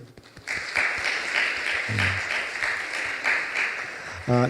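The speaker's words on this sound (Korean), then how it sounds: "감사의 박수" Church congregation applauding to thank the worship team, a dense wash of many hands clapping that swells through the clip, with a brief voice near the end.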